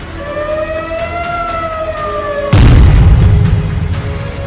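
Air-raid sirens wail during an Iranian missile attack on Tel Aviv, a rising and falling tone that is cut off by a loud, heavy explosion booming nearby, followed by rumbling and further sharp bangs.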